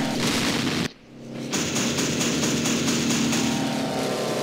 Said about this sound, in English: We got our first airstrike in there.